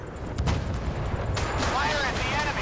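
Warship guns firing in the naval combat game Force of Warships: loud booming blasts and rolling rumble, with a sharper burst midway, while a radio-style voice speaks over the action.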